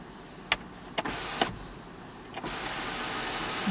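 Electric power window on a Mitsubishi Outlander GT sliding shut, a steady motor whir that runs through most of the clip and is broken by a few sharp clicks near the start.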